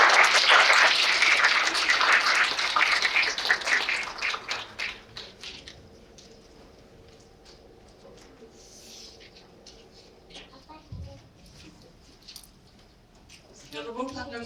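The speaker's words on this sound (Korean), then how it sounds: "환영의 박수 부탁드리겠습니다" Loud applause from a graduation ceremony audience fills the first few seconds, then fades into quiet room noise and light rustling before a voice starts at the end.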